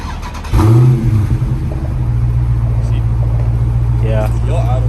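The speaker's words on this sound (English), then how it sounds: "That's stock exhaust, bro." A Dodge Charger Scat Pack with stock exhaust starts up with a sudden loud roar, then settles into a steady, deep, rumbling idle close by; voices speak faintly near the end.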